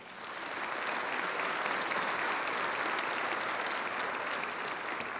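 Sustained applause from an audience at a chamber of commerce community event, steady and dense clapping that swells in quickly and holds loud for the whole stretch without pause.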